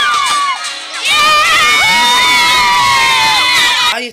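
Loud, shrill shouting and whooping from several excited voices, a brief burst followed by a sustained chorus of yells with rising and falling pitch, close by.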